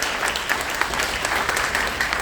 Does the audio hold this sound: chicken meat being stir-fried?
no